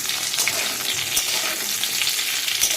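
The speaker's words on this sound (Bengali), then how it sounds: "কালো জিরে ফোড়ন দিয়ে ডাটা আর আলুটা ছেড়েছি" Potatoes and vegetable stems frying in oil tempered with nigella seeds for a fish curry, a dense continuous sizzle close up with faint stirring, no talking.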